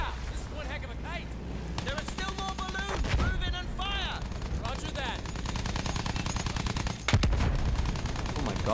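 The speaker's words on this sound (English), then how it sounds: "This must be an explosion from a helium balloon." Target balloons bursting under fire in the Battlefield 1 video game, a string of sharp pops and gunshot cracks amid rapid weapon fire, with game music and a voice talking over the action.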